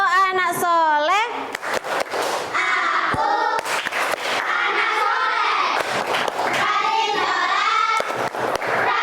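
A class of pupils performs a patterned group clapping cheer, crisp bursts of claps in rhythm woven through loud, lively unison chanting and shouting voices from close by.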